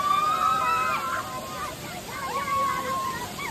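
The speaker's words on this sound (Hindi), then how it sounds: "ये हमारा वाटरफॉल है" A waterfall roars as a steady wash of splashing water. Voices talk and call out loudly over it throughout.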